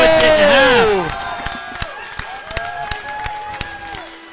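A crowd at an axe throwing championship erupts in a loud burst of cheering and exclamations for about a second, then falls away beneath a commentator talking, with sharp impact clicks scattered behind.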